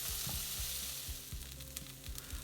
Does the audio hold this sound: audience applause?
no